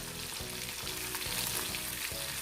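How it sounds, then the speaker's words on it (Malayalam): Fish fries in hot oil in a pan for a thick fish gravy, with a constant, fairly quiet sizzle and faint bubbling crackle that continue without a break. "അപ്പം ഞാനതിലേക്ക് മീൻ ചേർത്ത് കൊടുത്തിട്ടുണ്ട്. അപ്പോൾ കുറച്ചായിട്ട് നമുക്ക് ഫ്രൈ ചെയ്തെടുക്കാം."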